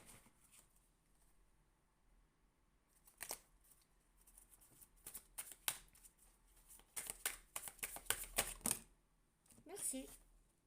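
Tarot cards are shuffled and handled in bursts of crisp riffling and slapping, sparse at first and then dense and rapid, close and fairly quiet.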